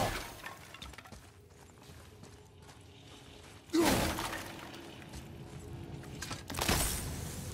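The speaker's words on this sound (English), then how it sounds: "I will never get tired of shattering things with this." Objects shattering in the PS4 game God of War: two heavy breaking crashes a few seconds apart, each a loud burst of splintering debris over a quiet, faintly mechanical game backdrop, with no talking.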